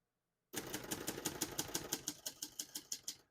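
Rapid, evenly spaced keystrikes from a 1970 Hermes 3000 portable manual typewriter, each a sharp clack close by, running steadily after a brief silence with no voices.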